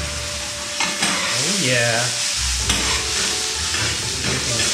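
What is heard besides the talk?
stir-frying mushrooms and peas for Japanese fried rice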